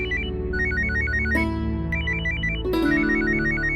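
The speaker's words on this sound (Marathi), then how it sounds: "दार्जींचा फोन" A phone ringtone plays a repeating electronic melody of bright, beeping notes over a steady musical backing, loud and close with no voices.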